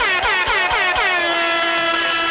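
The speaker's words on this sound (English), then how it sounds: "a motherfucker out there who just kept pressing the air horn button as if it was going out of style" An air horn blasts in quick repeated presses, several short bursts in a row followed by one long sustained, loud blare.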